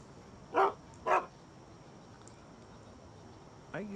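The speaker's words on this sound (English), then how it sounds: "There's a dog there," A dog barking in the video game Shadow of Memories, with two short, distinct barks close together and a fainter third yelp a few seconds later over a quiet ambient background.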